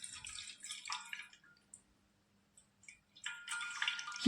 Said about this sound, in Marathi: आता 5 मिनिटानंतर रवा छान खाली राहिला आणि पाणी वर आलंय, तर आता हे पाणी आपल्याला काढून टाकायचंय